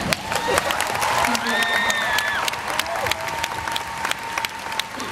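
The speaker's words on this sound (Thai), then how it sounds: "ขอเสียงปรบมือดังๆให้กับป้าแจ๋วนะคะ" Loud applause from an audience at a Thai show, steady dense clapping with some crowd noise and a voice speaking over it.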